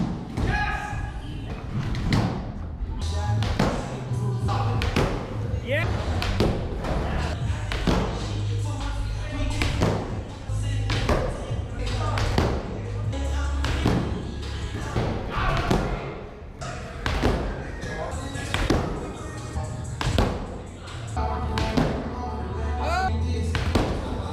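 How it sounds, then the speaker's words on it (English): Repeated thumps and thuds of a skateboard landing on the ground during ollie practice while rolling, a steady series of impacts at varying intervals over continuous background noise, with voices talking in the background. "he wanted to work on his ollies"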